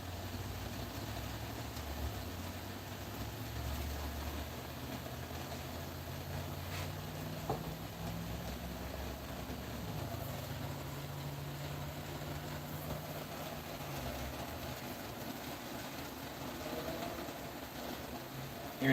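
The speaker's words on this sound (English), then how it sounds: "Hearing some more motorcycles." Engines of motorcycles passing outside rumble faintly in the distance, with low droning tones that rise and fall slowly over quiet background ambience.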